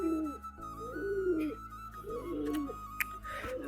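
Domestic pigeons in a backyard coop coo in repeated low throaty phrases, about four rolling calls close by, over a steady background hum.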